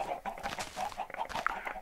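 A flock of Minecraft chickens clucks over and over in a chicken field, a brief close chorus of overlapping short clucks without any speech.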